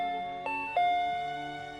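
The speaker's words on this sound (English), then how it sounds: "The doorbell? Do we have a delivery?" A doorbell sounds two clear chime notes in quick succession, each ringing out and slowly fading in an otherwise quiet room.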